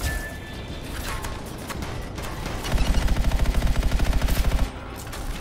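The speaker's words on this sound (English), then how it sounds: "We got ourselves a machine gun turret" Machine gun turret firing in the video game Anthem, a rapid burst of evenly spaced loud shots lasting about two seconds, following quieter mechanical clatter and ambient game sounds.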